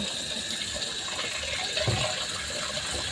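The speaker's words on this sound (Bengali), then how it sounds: "মাখিয়ে নেওয়ার পর আমি কেটে রাখা আলু ঝিঙেগুলো জলে ভালো করে কষলে ধুয়ে নেব।" Cut potatoes and ridge gourd are rubbed and washed in a bowl of water, giving a steady close sloshing and trickling with a slightly heavier splash midway.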